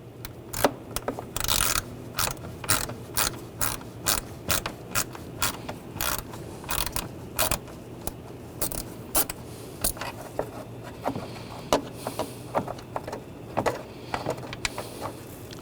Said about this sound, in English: Now I'm going to use a T25 socket or bit and take this screw out.